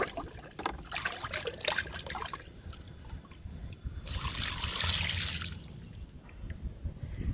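Kitchen waste liquid is poured onto garden plants, making a brief splashing trickle that rises and fades over a steady background hiss.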